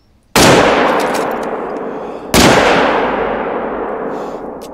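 Two loud, close rifle shots ring out about two seconds apart in theHunter: Call of the Wild during a bison hunt, each followed by a long rolling echo that slowly fades.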